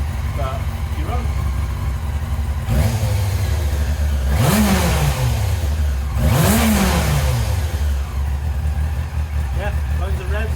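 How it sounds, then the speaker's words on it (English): A Yamaha R6 sport motorcycle, just brought back to running, idles with a steady rumble and is blipped twice into sharp revs that rise and fall back, with a brief earlier rise and some speech over it. "Yeah, loads of revs, idles nicely."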